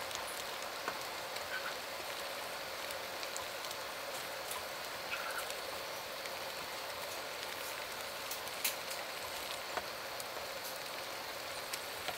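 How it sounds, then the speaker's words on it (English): Balsamic onion jam at a full rolling boil in a pot, giving a steady, dense bubbling and popping that fills the whole stretch at a moderate level, with no voices over it. "So it's at a full boil that won't stir away"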